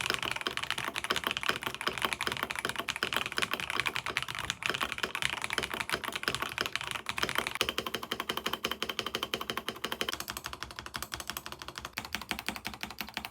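Rapid, steady keystrokes on a Kit Lilith mechanical keyboard built with Lego parts and fitted with stabilizers, clacking continuously and close up with no voices.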